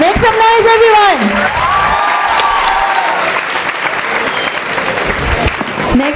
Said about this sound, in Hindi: एक बार विजय पाटकर सर के लिए जोरदार तालियां, मेक सम नॉइज एवरीवन